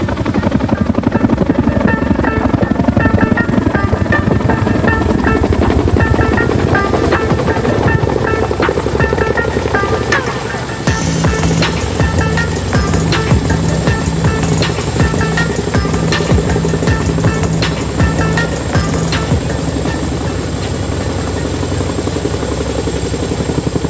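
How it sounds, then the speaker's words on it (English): Two Chinook military helicopters fly at an Indian Air Force air show in Chandigarh, their heavy rotor thump loud and continuous, with a public-address commentary voice faint beneath. "And now you can see both the Chinooks are facing each other"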